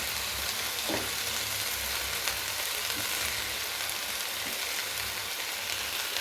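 Vallicheera greens fry in a pan with a dense, continuous loud sizzle, close up, and a few soft stirring scrapes underneath, with no talking.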